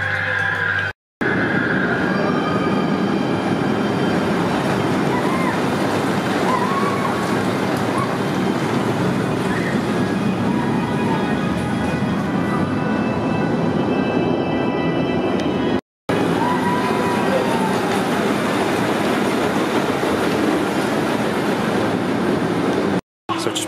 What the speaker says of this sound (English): Saw a train go around, it was empty, so Lucy should get a walk on here.